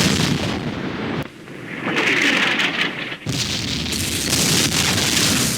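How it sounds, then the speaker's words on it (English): Heavy artillery fire in the war strategy game Campaign Series Middle East, set in an Arab-Israeli war: loud, rumbling booms and crackling barrages roll on almost continuously, broken by two brief drops, with no talking. "They've got a lot of artillery, guys."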